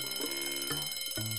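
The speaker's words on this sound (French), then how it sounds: "Tu veux tuer ton réveil." A morning alarm clock rings in a repeating electronic pattern, several bright tonal beeps in quick succession, close and alone.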